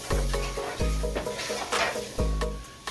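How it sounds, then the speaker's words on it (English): Gravy with spring onions sautés in a pan as a spoon stirs it, giving repeated bumping strokes roughly every half second over a low sizzle, close and without talk. "And I'm going to stir this in, and I'm going to let this saute like for 5 minutes"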